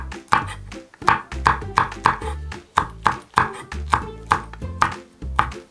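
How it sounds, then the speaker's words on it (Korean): Cheongyang chili peppers are sliced diagonally with a knife on a cutting board for nabak kimchi, a loud, close, steady run of about fifteen sharp chops in a regular rhythm, with no voices. "청양고추는 어슷하게 썰어주세요."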